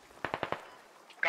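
A short burst of four quick gunshots in the shooter game SquadOps, sharp and fairly close, followed by a quiet pause and a distant clatter, with a voice speaking around it.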